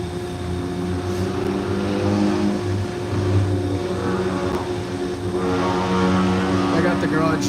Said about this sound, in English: Somebody had a loud car going down the street.